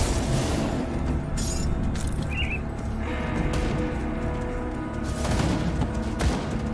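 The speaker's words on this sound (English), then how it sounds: "I hear a lot of gunfire." Sustained gunfire and heavy impacts rumble through a battle in the Grim Dawn action game, a dense, loud barrage of shots and booms that continues throughout.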